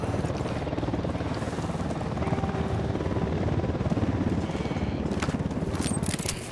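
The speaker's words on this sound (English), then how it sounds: "Don't need that chopper." Helicopter in Ghost Recon Wildlands, a loud, continuous rotor chop thudding at a steady fast rhythm, close by, with faint voices underneath.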